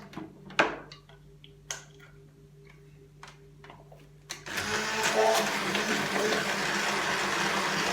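An electric hand mixer whirs steadily after a few light clicks and taps, its motor noise continuous and close.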